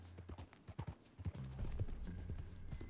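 Horse in the video game Red Dead Redemption 2 with hooves clip-clopping in a quick, uneven rhythm, fairly faint beneath a low background rumble.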